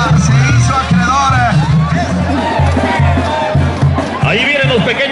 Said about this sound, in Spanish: Fuerte que se oiga ese aplauso